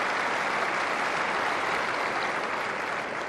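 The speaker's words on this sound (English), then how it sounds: "Warm applause then for two Wimbledon champions." Steady, dense applause rolls through a Wimbledon tennis crowd for Pete Sampras and Roger Federer, a continuous wash of clapping at even loudness with no voices standing out.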